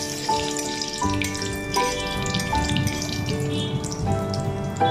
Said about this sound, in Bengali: এবার ওই বড়ার তেলের মধ্যেই আধা চামচ 5 ফোড়ন, একটি শুকনো লঙ্কা ফোড়নে দিয়ে এবার ফোড়নগুলি একটু ভেজে নিচ্ছি